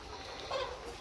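Caged laying hens in a poultry house, a brief soft cluck rising midway through a steady low murmur of barn noise, no talk.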